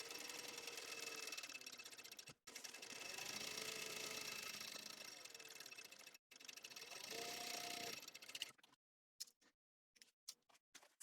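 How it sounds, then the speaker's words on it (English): A sewing machine top stitches along a padded laptop bag, running in steady loud bursts with two brief pauses, then stopping and starting in short stitches toward the end. "I want to top stitch at 1/8 inch seam allowance and then baste it all the way closed all the way around."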